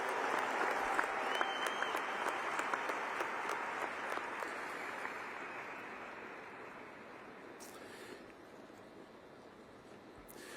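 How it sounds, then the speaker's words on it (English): A large crowd at a Champlin Park High School graduation ceremony gives a long, dense round of applause that fades gradually and softens toward the end. "Let's give them one more round of applause as they make their way back to their spots."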